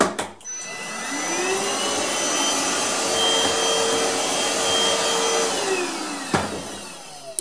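An iLife Easine H55 vacuum cleaner with a 1.3 L dust bin runs alone, starting up into a steady, loud motor whine with a faint pitch glide, then cutting off near the end.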